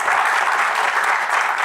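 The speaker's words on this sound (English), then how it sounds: "Can we get a round of applause for that?" An audience gives a steady round of applause, dense and even clapping heard up close and alone for under two seconds.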